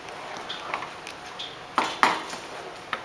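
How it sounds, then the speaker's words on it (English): A metal spoon stirs rava kesari cooked with jaggery and milk in a pan, giving sparse, light clinks and taps against the metal over a quiet background, with a few sharper knocks near the end. "Keep stirring."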